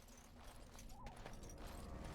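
Horse hooves clip-clop quietly in Dragon Age Origins, a faint, steady patter of steps low in the mix beneath a soft ambient forest wash, continuing for about two seconds.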